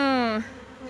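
Honeybees buzzing, a brief loud droning hum up close that drops away abruptly after a moment.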